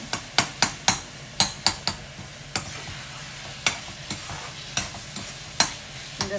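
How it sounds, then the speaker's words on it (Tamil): Tomatoes fry in a pan for garlic and curry leaf vatha kuzhambu, with a steady low sizzle broken by repeated sharp scrapes and clinks of a spoon stirring against the metal, close and fairly quiet. "தக்காளி நல்லா வதங்கி வந்துருச்சு"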